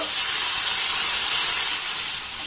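Ginger-garlic paste frying with onion and chilli gives a continuous close sizzling hiss that holds steady throughout, with no clear stirring strokes and no voice.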